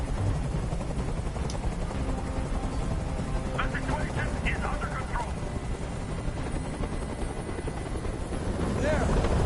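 Helicopter from the video game Detroit: Become Human hovering close overhead, a loud steady rotor roar running throughout beneath a spoken line and scattered game sounds.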